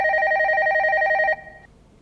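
A telephone rings in a steady electronic double-tone warble, loud and close, then cuts off partway through, leaving a faint tail and quiet room background.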